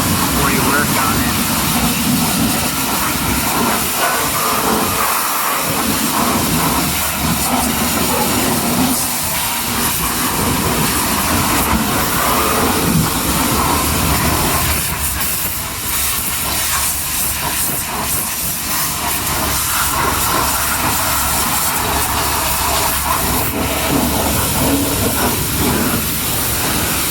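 Compressed air blasting dirt and debris out of an Oasis I-5 machine before its drive motor is worked on: a loud, steady, broadband hiss that runs nearly unbroken for the whole stretch, with slight surges and dips in force.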